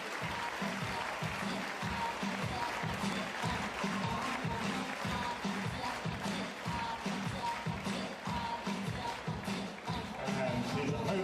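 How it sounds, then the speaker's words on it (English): Audience applause at a professional table tennis tournament greets a Croatian player during introductions, a steady, dense clapping that runs the whole stretch while an announcer's voice carries over the top. "a big round of applause, please, for Tomislav Pucar"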